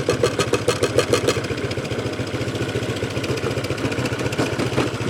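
A Honda PCX150 scooter idles close by with a steady, fast low pulsing throb and a faint metallic CVT rattle riding over it, continuous and fairly loud with no talking.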